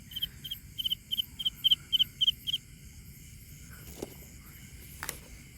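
Night insects chirp in a quick run of about a dozen bright, cricket-like pulses, then fall quiet, leaving faint background hiss and a couple of soft clicks.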